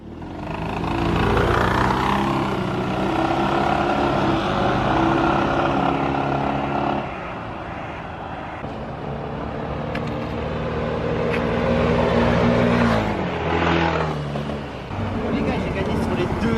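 Yamaha X-Max and T-Max scooters race side by side, their engines droning loud and steady with rising and falling pitch as they accelerate and ease off. Voices talk over the engine noise throughout.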